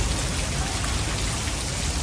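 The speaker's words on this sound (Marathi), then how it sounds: "आता खूपच जोरात पाऊस आलेला आहे" Heavy rain pours down in a dense, steady hiss close by, unbroken for the whole stretch with no voices.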